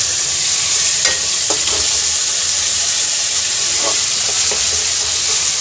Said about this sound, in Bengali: এই তখন মাছের তরকারি রান্না করছি